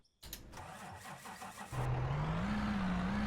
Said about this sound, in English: here, we'll drive this truck.